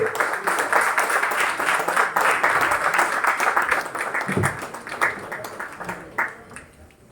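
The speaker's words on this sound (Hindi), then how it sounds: "जोरदार ताली होनी चाहिए।" Audience applause at a leadership seminar in India, steady loud clapping filling the room for several seconds with a bump near the end, mixed with some background voices.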